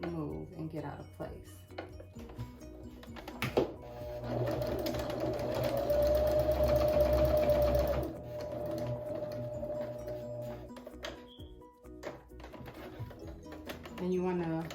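A serger sewing machine runs steadily for several seconds, basting a V-neck collar into a garment, its motor whirring loud and close between quieter handling noises and brief pauses, with a voice talking around the stitching.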